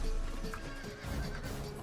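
Horses ridden by horse archers in a Total War-style strategy battle, with neighing, whinnying and steady clip-clop of hooves, loud and continuous across the scene.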